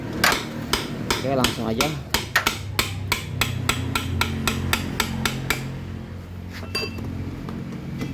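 A worn rear pulley bearing is knocked out of a Honda Beat FI scooter with about twenty sharp, close metallic taps in a fairly steady rhythm, and a voice speaks briefly at the start.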